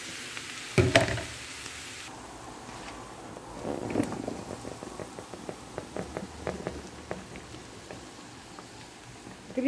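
Button mushrooms frying with onion in a pan, a steady soft sizzle with a few sharper pops and utensil knocks near the start, then scattered crackles through the rest.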